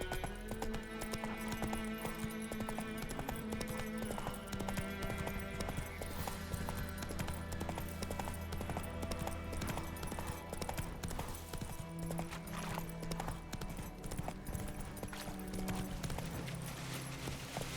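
A horse gallops in The Witcher 3: Wild Hunt on PS5, its steady clip-clop rhythm faint under a dense, continuous bed of game music.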